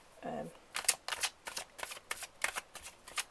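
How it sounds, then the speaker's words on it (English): Crystal Visions tarot cards are riffled and shuffled in a quick series of crisp, papery bursts, close and fairly soft, after a brief murmured voice at the start. "it's so nice to shuffle"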